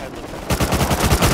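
Rapid automatic gunfire in the PvP video game Rust on PS5, loud close bursts of shots in quick rhythm starting after a brief quieter lead-in.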